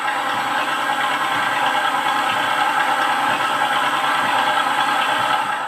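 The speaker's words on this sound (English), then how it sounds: "And we are starting off our engines there on that yellow and blue plane." A model airplane engine runs at an airshow, a steady, high-pitched buzzing drone with a rattling edge that holds constant and close throughout, with no talking.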